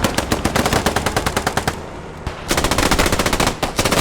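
Loud machine gun fire in a multiplayer shooter: rapid, evenly spaced bursts of shots that ease off briefly midway, then resume as a dense stream with another short gap near the end.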